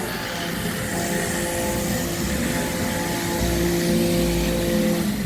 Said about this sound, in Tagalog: Nagtitrim sila, ang lakas talaga ng ng cutter